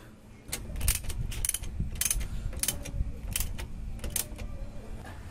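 A bolt is tightened on the rear shock absorber of a Yamaha Mio i125 scooter, heard as close, rapid bursts of metallic ratcheting clicks in uneven runs over a low background rumble.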